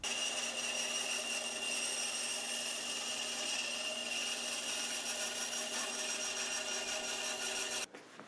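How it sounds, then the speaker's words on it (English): A saw works steadily through 1/4 inch poplar, cutting out an outline for a wooden Master Sword prop. The rasping runs continuously and fairly loud for about eight seconds, then stops abruptly near the end. "So I'm going to cut out this whole outline here."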